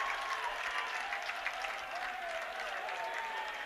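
Crowd cheering and applauding after a 149-pound EWL wrestling championship match, a steady, dense roar of clapping and voices filling an arena, loud and sustained throughout.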